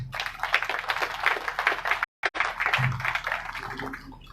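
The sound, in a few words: audience applause welcoming the Chief Minister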